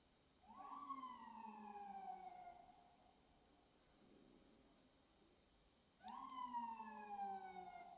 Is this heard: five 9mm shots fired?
no